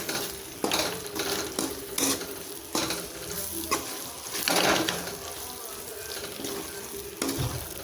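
Spoon scraping and stirring a mixture in a pan with a steady sizzle underneath, in irregular bursts of clatter against the metal, close and fairly loud, while parotta pieces wait to be added.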